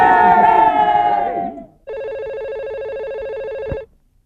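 A telephone rings in one steady electronic tone of about two seconds. It comes right after a burst of loud shouting and talk and stands alone, fairly loud and close.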